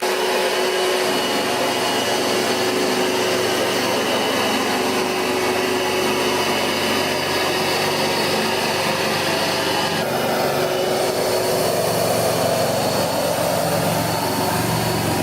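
A Rug Doctor carpet cleaner runs over carpet with a loud, steady, close motor whine and airy suction roar that shifts slightly in tone partway through. No one talks over it.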